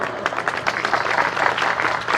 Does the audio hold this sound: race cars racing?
no